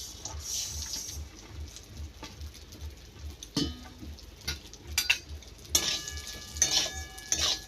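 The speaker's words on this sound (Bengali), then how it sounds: "এইবারে চালগুলো দিয়ে ভেজে নেব।" Gobindobhog rice is fried in ghee in a wok over a low flame, giving a quiet, steady sizzle with occasional stirring scrapes and sharp clinks, close and without speech.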